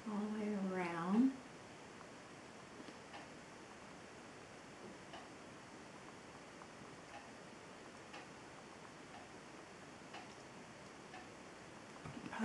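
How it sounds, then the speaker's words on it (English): Loud wall clock ticking in a quiet room, steady regular ticks throughout, preceded by a brief burst of a voice at the start. "You probably hear my clock ticking."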